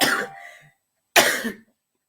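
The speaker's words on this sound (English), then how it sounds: "And I can't stop coughing." Two separate coughs about a second apart, each a short harsh burst trailing off, with silence between and after.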